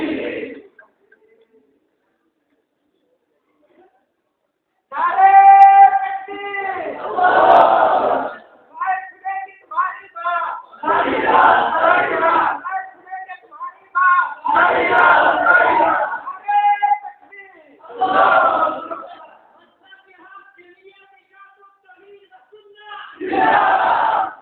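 A crowd shouts religious slogans in unison, with loud call-and-response bursts repeating after a lead voice following a short quiet start.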